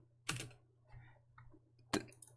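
Typing on a computer keyboard, a few faint, sparse key clicks with two sharper taps, over a low steady hum.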